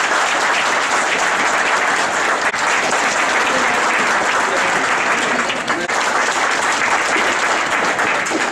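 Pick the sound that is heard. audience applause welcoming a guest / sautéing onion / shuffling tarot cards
audience applause welcoming a guest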